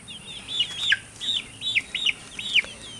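Bright, repeated chicken calls in a quick series of short clucking notes, fairly close against a quiet background hum.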